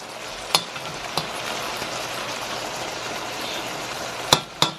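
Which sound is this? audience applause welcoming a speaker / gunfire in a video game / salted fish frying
salted fish frying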